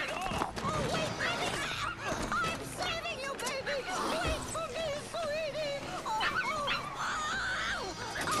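A dog in the video game Dead Rising barks and yips repeatedly amid busy game sound effects, steady and fairly loud throughout the stretch.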